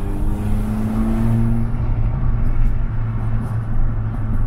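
Peugeot 106 engine running with a rough, tractor-like low drone, loud and close, a steady throbbing rumble with a faint pitch shift early on and no talk.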